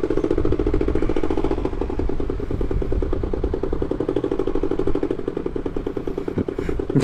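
A Kawasaki Ninja 650 (ER6F) parallel-twin motorcycle engine idles while firing on only one cylinder, giving a loud, close, uneven chugging and clattery rumble that runs steadily throughout.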